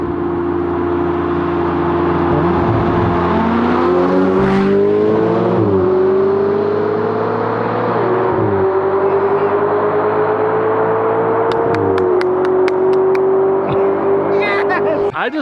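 A McLaren 570S and a Ferrari 488 GTB accelerate hard side by side in a roll race, a loud sustained engine roar climbing in pitch through several upshifts, heard close from inside a car.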